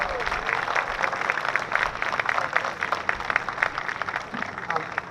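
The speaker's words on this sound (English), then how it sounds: "join me in a round of applause to say thank you" Appreciative audience applause at a STEM program event, a crowd clapping steadily and fairly close, with some talking mixed in beneath the claps.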